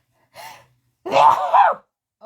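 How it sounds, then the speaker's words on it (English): A single person's sneeze, close and loud: a short breathy intake, a brief pause, then the sharp voiced burst of the sneeze itself. "I gotta sneeze."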